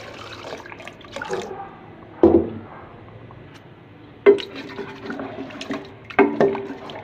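Water poured from a glass into a pot of browned potatoes and mutton for aloo gosht, arriving in several separate splashy gushes with quiet pauses between them and no talking.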